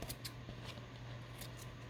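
Scissors trim a loose yarn end with several quick, quiet snips in uneven bursts, close by, over a low steady hum.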